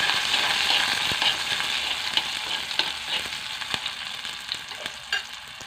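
Broccoli sizzles steadily in a hot pan during a light sauté, a close, even hiss broken by occasional sharp clicks of stirring, with no voices.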